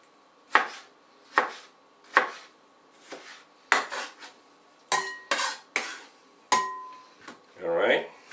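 A kitchen knife from a short set chops through tomatoes on a cutting board, giving about ten crisp, separate thuds at an uneven pace, close and clear, with a brief rattle near the end.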